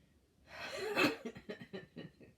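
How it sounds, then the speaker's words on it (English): A single person's sneeze indoors: one sharp, close burst followed by a string of short, breathy gasps and snorts. "Sorry, I sneezed."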